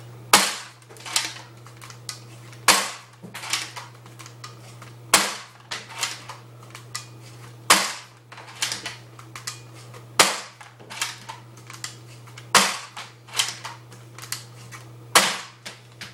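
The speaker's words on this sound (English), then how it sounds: "I'll just show you the rate of fire and how easy it is to crank the turret." A 3D-printed crossbow turret is cranked and fired: sharp, snapping shots at regular intervals about two to three seconds apart, with softer clicks and ratcheting of the crank between them, close by under a steady low hum.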